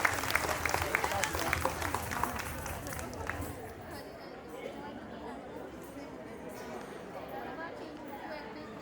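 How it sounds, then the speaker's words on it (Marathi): An audience applauds a performer at a Maharashtra Day cultural programme, with a strong burst of clapping mixed with crowd chatter that fades into softer murmuring and scattered claps. "नक्कीच जोरदार टाळ्या झाल्या पाहिजेत लोहिताक्षसाठी."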